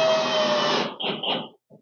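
A power driver sinks a screw into a pre-drilled timber frame for an under-stairs pull-out drawer, running as a loud steady whir for most of a second before two shorter bursts finish driving it home.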